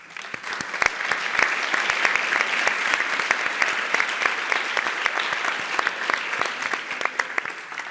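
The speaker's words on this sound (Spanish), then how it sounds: "Y eso se merece otro aplauso a Basquetour." Audience applause at a round-table session on social sustainability in tourism, steady dense clapping from a crowd that holds for several seconds with no talk over it.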